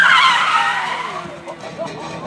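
A stunt car at an extreme motor show in Finland skids through a 180-degree turn, giving a loud, close tire squeal that fades over about two seconds with engine noise behind it.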